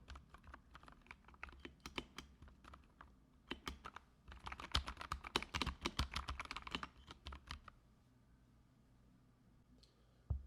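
Soft, quiet typing on a Kemove K98 mechanical keyboard with light clicks, a steady run of keystrokes that grows busier midway, then stops near the end, leaving near silence.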